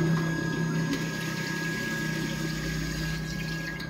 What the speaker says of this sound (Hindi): अच्छा अभी फ्लशिंग ले लेगा